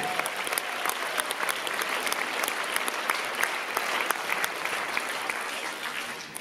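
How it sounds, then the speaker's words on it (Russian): Steady applause from a concert audience after a folk group's performance, dense clapping with sharper individual claps standing out, continuous and moderately loud throughout. "Ваши аплодисменты!"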